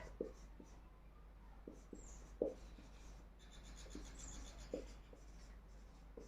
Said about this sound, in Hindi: यहां लिखती हूं मैं थोड़ा